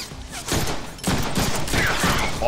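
Rapid bursts of gunfire from enemy firearms in the Deadpool video game, dense and continuous, with volleys swelling across the whole stretch and a short lull near the start.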